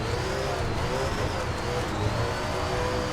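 A dirt late model race car in the SRX video game at Sheep Mountain revs hard, a constant loud engine roar with rising and falling pitch as the throttle is worked, with no voices.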